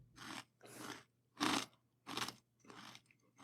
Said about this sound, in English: You're crunching.